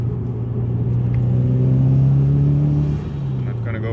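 Subaru STI engine pulling hard while driving through a residential area, a loud steady rumble rising in pitch then easing off, heard from inside the car.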